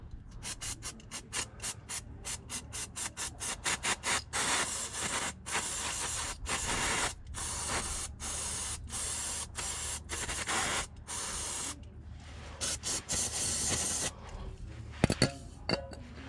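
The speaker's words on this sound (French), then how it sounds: "Petit coup de nettoyant frein." Brake cleaner sprays from an aerosol can underneath a 2.0 TDI Audi A3 during an oil change, a long run of sharp hissing bursts, quick at first, then longer blasts separated by brief pauses.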